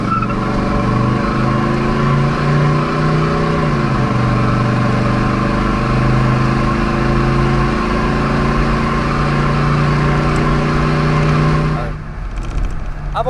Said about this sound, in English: Go ahead and roll in the throttle here a little bit.